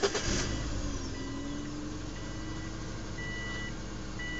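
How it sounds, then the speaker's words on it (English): A car engine idles steadily after starting with a faint, even hum, opening with a brief louder burst and a thin whine rising in pitch, alongside faint high tones. "Start up the car"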